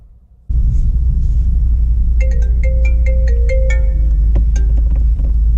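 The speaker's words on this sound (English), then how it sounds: "Fucking phone calls." A mobile phone plays a loud melodic ringtone for an incoming call inside a moving vehicle. Its bright tonal notes sound over a heavy, constant engine and road rumble for about three seconds.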